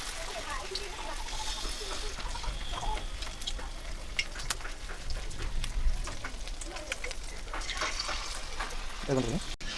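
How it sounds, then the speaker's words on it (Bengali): Batter-coated boiled eggs for egg pakoras frying in hot oil, a continuous crackling sizzle with scattered pops, a voice talking over it throughout. "ব্যাটারে কোট করে আমি এগুলোকে ভেজে নেব"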